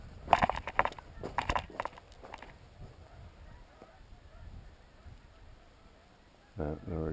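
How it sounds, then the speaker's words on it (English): Geese honking on an October morning walk outdoors, a burst of several harsh calls at the start and a short flurry again near the end, with quiet ambient stretches between. "We don't get geese too real much."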